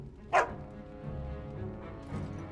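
A dog in the video game Dragon Age Origins lets out a single short, sharp bark, followed by softer low whines over a quiet background.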